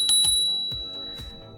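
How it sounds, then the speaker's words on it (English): The handlebar bell on an iScooter iX7 Pro dual-motor electric scooter is struck a few times close up, bright metallic dings that ring on and fade, with no speech over them. "It has a bell"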